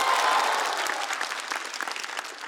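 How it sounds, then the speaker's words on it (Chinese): An audience at a stand-up comedy competition show breaks into dense, sustained applause that fills the room, slowly thinning toward the end. "我们掌声再次送给"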